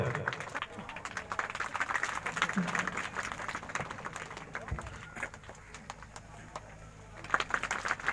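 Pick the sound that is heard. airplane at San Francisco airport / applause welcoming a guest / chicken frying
applause welcoming a guest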